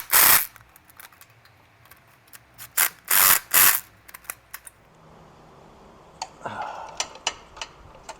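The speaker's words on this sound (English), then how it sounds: "now we'll go over the rest with the ratchet" Ratchet clicking as oil cooler line bolts are tightened on a 2009 Toyota Highlander: several loud bursts of rapid ratcheting early on, then softer intermittent ticks and light handling noise.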